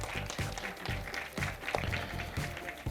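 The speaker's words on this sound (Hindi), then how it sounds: "एक बार जोरदार तालियां चाहिए रणदीप के लिए।" Audience applause at a film trailer launch event, a dense burst of clapping from many hands that stays steady and fairly loud throughout, with no talk over it.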